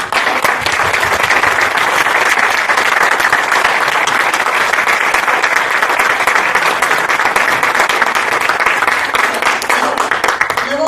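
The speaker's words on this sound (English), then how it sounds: "another round of applause for Julia" A lecture audience claps steadily and loudly for about ten seconds, a dense, even wash of applause from the whole room that never lets up.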